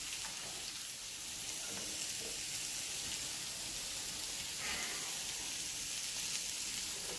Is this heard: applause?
no